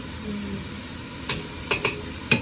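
Sausages for jambalaya sizzle in a pan as a steady frying hiss, broken by a few sharp scraping clicks of stirring near the end; no one speaks.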